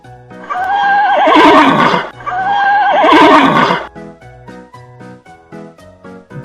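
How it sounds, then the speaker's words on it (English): A horse neighs twice in a row, each whinny loud, shrill and quavering, set against a light backing tune that carries on after the calls stop. "Horse."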